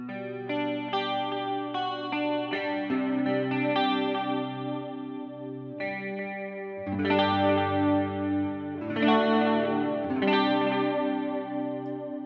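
Guitar played through a Boss CE-2 chorus pedal, sustained chords and picked notes with a shimmering, wavering modulated tone, strummed swells recurring through the passage at steady moderate loudness.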